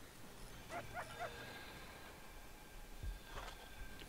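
A dog in the Prison Architect video game gives a few faint, quick yips and barks over low background hiss, with another brief burst later.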